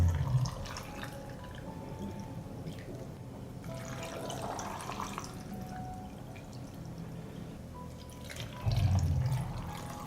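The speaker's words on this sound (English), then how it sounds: "I pour water into the jars to cover the sweet cherries." Water poured from above into glass jars packed with sweet cherries, a steady close splashing pour lasting several seconds with a brief louder surge near the end, and no voices.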